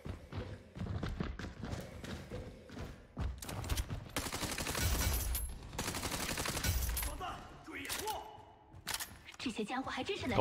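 A VSS rifle fires in Battle Teams 2, a shooter video game, in loud repeated bursts of rapid gunfire with dense, sustained volleys in the middle and scattered shots and impacts around them.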